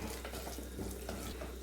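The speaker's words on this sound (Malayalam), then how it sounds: "അതിനുശേഷം നന്നായിട്ട് ഇതുപോലെ ഒന്ന് മിക്സ് ചെയ്ത് കൊടുക്കാം." A spoon stirs a jaggery and water mixture for sweet pongal in a pan on the stove, giving soft repeated scraping and sloshing strokes over a low steady hum.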